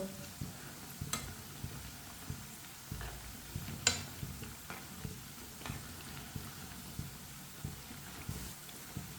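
Pakoras shallow-frying in oil until lightly browned on both sides, giving a faint, steady sizzle with soft crackles and occasional sharper pops.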